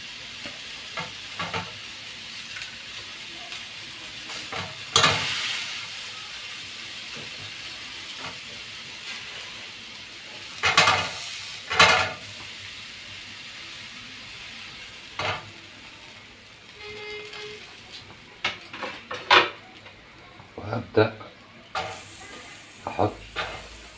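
Meat sizzles and fries in a pot, a steady hiss broken by loud scraping clatters of a spoon stirring it at irregular intervals, close and without talk.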